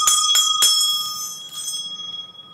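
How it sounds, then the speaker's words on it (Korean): A bell rung to open the US stock market gives a quick cluster of three bright strikes, then two more, each ringing on with a clear metallic shimmer that fades. "종을 제가 한번 치겠습니다."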